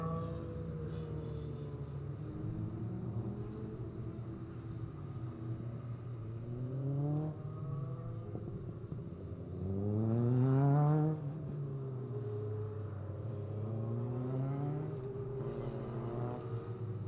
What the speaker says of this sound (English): I can already hear the next cars are out on circuit